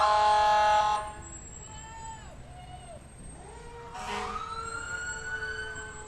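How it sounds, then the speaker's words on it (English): An ambulance siren from a community emergency medical service in the 2021 White Lake area Independence Day parade wails with rising and falling tones, loud at first and then steadier at a moderate distance amid outdoor parade background. "Looks like we have our White Lake ambulance coming again."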